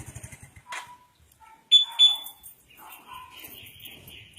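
A two-way anti-theft alarm on a Yamaha Mio Soul i 125 motorcycle gives short electronic chirps and warbling beeps in a brief sequence, close by, with a faint engine-like hum in the background.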